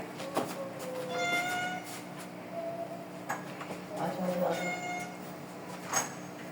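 A cat meows several times at close range, drawn-out and plaintive, with soft background noise and faint voices between the calls.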